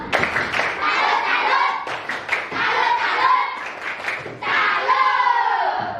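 Classroom students doing a rhythmic salute clap together, a run of sharp, fairly loud hand claps in a patterned beat with some voices and shouts mixed in.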